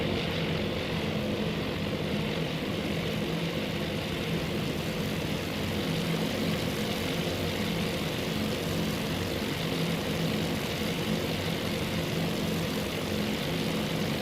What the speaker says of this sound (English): we'll get to see the other aircraft in front do the dive before this